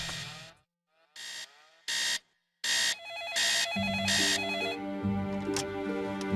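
A telephone rings in repeated bursts with short gaps for a hotel wake-up call, loud and close, then gives way to a sustained electronic tone pattern.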